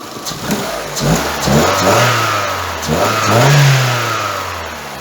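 An Opel Astra G engine runs nearby while warming up, its pitch rising and falling through several gentle revs, loud and steady with no voices.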